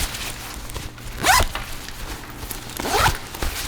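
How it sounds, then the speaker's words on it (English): The carry bag of a motorcycle airbag vest has its zippers pulled open twice, two quick rasping zips a couple of seconds apart over quiet room noise. "So this unpacks very easily. It's just a couple of zippers."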